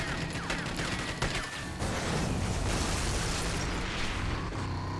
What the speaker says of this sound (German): Oh, da hinten ist irgendwas explodiert.